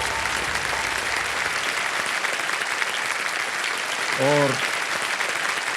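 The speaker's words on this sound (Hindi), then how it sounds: "तालियां बज जाए इनके लिए।" Studio audience applause on the KBC game show, dense continuous clapping throughout, with a brief tone sounding near the end.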